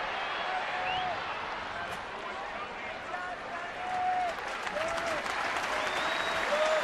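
A baseball crowd at a Cubs at Giants game applauds a fly ball out to center field, broad distant clapping and cheering rising midway beneath a play-by-play announcer talking over it.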